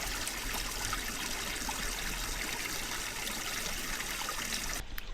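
Switchback Spring trickles steadily beside a trail, a continuous close-up babble of running water with no voices.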